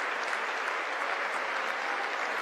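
A large audience claps continuously at the State of the Union, a thick, even roar of many hands with no pauses or voices over it, steady and fairly loud.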